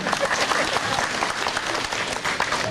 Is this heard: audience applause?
yes